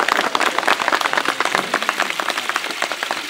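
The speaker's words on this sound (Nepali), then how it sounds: "सबै ताली बजाउँ त" A crowd gathered at a foundation-stone ceremony for a lift drinking-water project claps together in a dense, continuous burst of applause, close and lively throughout.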